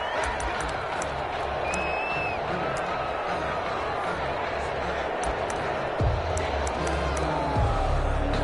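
A football stadium crowd at a San Francisco 49ers game roars and cheers continuously, a dense wash of voices and whoops, heard under an announcer's talk.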